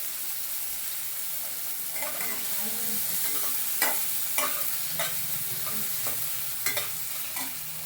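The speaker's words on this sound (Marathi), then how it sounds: "टोमॅटो टाकल्यावर पण ते परतच आहे गॅस बारीक केलं" Tomatoes stirred and sautéing in a pan over a low gas flame, a steady soft sizzle with intermittent sharp scraping clicks of a spatula against the pan, close and alone.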